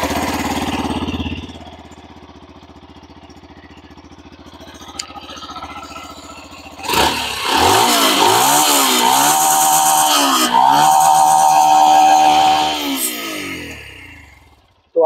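A Yamaha FZS V4 149cc fuel-injected motorcycle with a black muffler idles with a low, steady thrum, then is revved repeatedly in loud rising and falling bursts through the exhaust before settling back.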